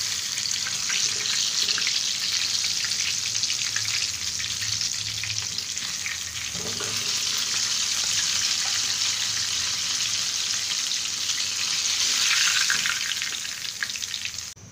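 Flour-coated KFC-style zinger chicken burger patties deep-fry in hot oil, giving a loud, continuous close-up sizzle that swells briefly near the end, with no talking.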